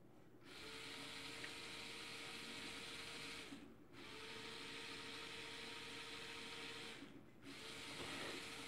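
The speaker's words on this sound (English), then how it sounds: "both the motor is running at same direction" Two small DC motors driven by an L293D driver and an Arduino hum with a faint, steady electric whine, running in three long stretches of about three seconds each, separated by brief dips.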